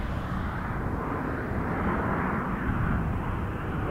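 An aircraft passing behind the WestJet hangar at Toronto Pearson Airport gives a steady, distant-sounding engine rumble, dense in the low end and unbroken throughout.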